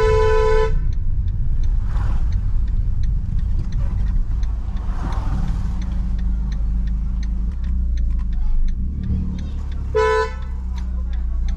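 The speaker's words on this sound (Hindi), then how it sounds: "कितने हॉर्न बजा दिए बड़े प्यार से" Car horns honk in Indian city traffic, a long harmonic blast at the start and another near the end, loud over continuous engine rumble and road noise while a driver works the clutch.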